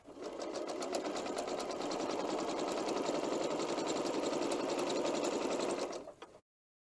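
A sewing machine stitches quilt block seams in one continuous run, a close, steady rapid whirring hum that holds for about six seconds and then stops abruptly.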